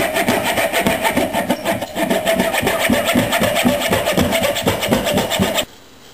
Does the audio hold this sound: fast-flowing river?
no